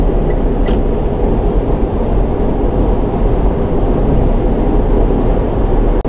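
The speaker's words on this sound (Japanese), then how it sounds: "5速80キロで走行していってますけど" A Daihatsu Hijet Jumbo kei truck cruises in fifth gear at 80 km/h, its engine and road noise forming a steady, loud, broadband drone from inside the cab, with no talking.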